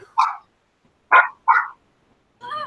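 A dog barks three times in short, loud bursts with pauses between, then a brief whine or yelp follows near the end; close by, with no talking.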